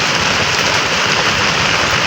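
Steady, dense hiss of rain falling heavily and evenly, with no pauses or voices.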